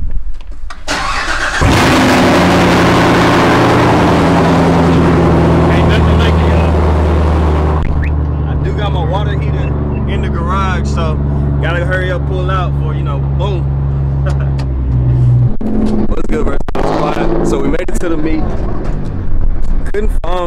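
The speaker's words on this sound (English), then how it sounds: "Give y'all a little cold start before we head out" A car engine cold-starting: a loud crank and catch, then a strong steady high idle that rumbles on and later settles lower, with someone talking over the running engine.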